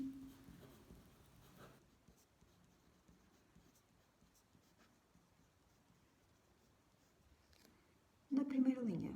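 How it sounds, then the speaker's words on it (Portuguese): Pen scratching on paper while a chemical equation for an acid's ionization is written out, faint close strokes in short bursts, with a voice speaking briefly at the start and again at the end. "vou voltar a escrever a equação química da ionização do ácido"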